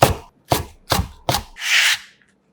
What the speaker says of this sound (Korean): 홍고추 1개는 반을 갈라 쫑쫑 썰어 반만 사용해서